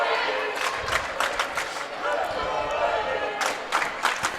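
A hometown crowd at a high school volleyball district final in a gym cheers and claps, with bursts of shouting and ball thumps, noisy and continuous with a louder surge near the end.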